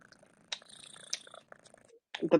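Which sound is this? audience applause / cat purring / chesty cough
cat purring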